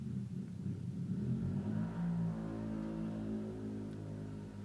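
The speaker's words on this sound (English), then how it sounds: "The sounds of mopeds and motorbikes going past my street all hours of the day." Motorbikes and mopeds pass along a city street, a continuous loud engine rumble with rising revs as one vehicle accelerates by close to the listener, no voices.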